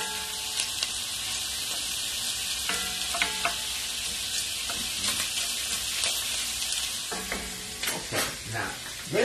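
Sausage sizzling in a pan while being broken up, with a continuous frying hiss and intermittent scraping stirs, close and with no talk.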